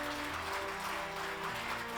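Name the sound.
audience applause at award ceremony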